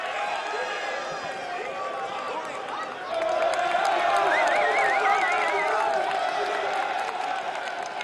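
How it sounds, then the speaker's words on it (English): A large crowd of spectators roars and whistles beside a cyclo-cross World Cup race at Hoogerheide in the Netherlands, a dense, sustained cheer that swells louder midway, with whoops and cries rising out of it. "Listen to the crowd cheer."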